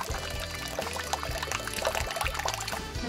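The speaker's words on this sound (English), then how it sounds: "just pouring it all over the pasta" Creamy vegan sauce pours over pasta in a steady, thick glugging stream with soft wet spatters, close up and moderately loud, with a low rhythmic background beneath.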